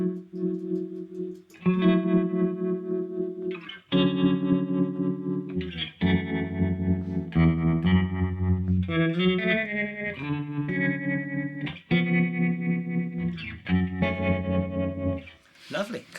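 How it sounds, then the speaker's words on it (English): A guitar runs through a Chase Bliss Audio Gravitas dual tremolo pedal set to a faster tempo, sustained chords chopped into rapid rhythmic pulses with a wavering, effected tone, loud and up front. "So by the sounds of it, that's a dual tremolo as well"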